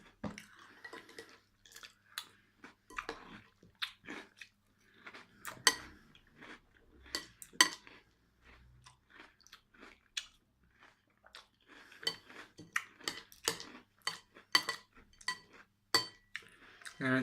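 Close, crisp crunching of Lion cereal being chewed in irregular bursts, with occasional light clinks of a spoon against a bowl and no talking.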